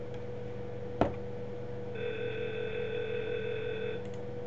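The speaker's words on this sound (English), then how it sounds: "I'm going to dial 4 digits, and you'll notice something about this particular call" A softphone on an Asterisk phone system dials a four-digit number: a sharp click, then steady tones held for a couple of seconds before a second faint click, all quiet and without speech.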